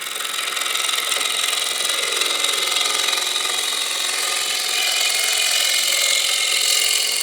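A wooden bowl spins on a lathe while a Hurricane carbide turning tool cuts its inside, giving a steady, loud, continuous whirring scrape with a bright hiss that holds through the whole stretch and swells slightly toward the end.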